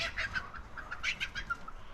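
A miniature Cochin chicken clucks rapidly in repeated short bursts while being chased, close and fairly loud, with no talk.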